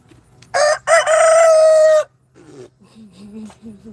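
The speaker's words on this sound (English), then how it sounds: "That's them damn chickens at our neighbor's house." A rooster at a neighboring house crows loudly once with a long, strained call, followed by softer clucking from the hens, all nearby and clear over a low background hum.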